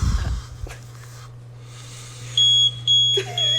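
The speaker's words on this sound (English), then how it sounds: "The beep scared me." A smoke detector gives a few sharp, high electronic beeps near the end, two longer tones and then shorter chirps, over a quiet room hum after a brief low thump at the start.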